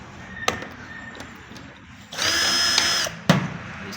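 A power drill backs a screw out of a Daewoo washing machine during disassembly, giving a short, close whirring burst of about a second between light clicks and handling knocks.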